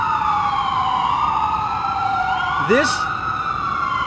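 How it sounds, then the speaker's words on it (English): Emergency vehicle sirens wail continuously in the background, a steady descending tone with a brief chirp near the end, as someone speaks over them. "Excuse me for the sirens in the background."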